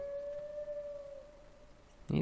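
A wolf in the Hold Your Own survival video game lets out a single long, clear howl that holds steady and slowly fades, ending in a brief loud thump.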